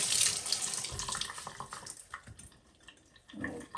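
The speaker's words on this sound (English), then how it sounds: "And I'll just go ahead and wash this. Rinse it." Tap water running over a solar garden light as it is rinsed, a steady close splashing hiss that breaks up into spatters and trickles, with a brief louder gush near the end.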